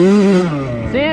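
A Yamaha YZ85 two-stroke dirt bike screams at high revs on a sandy, rutted motocross track, its pitch sagging briefly and then climbing again, loud and close to the rider.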